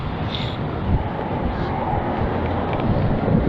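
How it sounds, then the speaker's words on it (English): Strong wind buffets the microphone with a constant roaring rush and low rumble, steady and loud for the whole stretch. "That's how windy it is. It's like crazy."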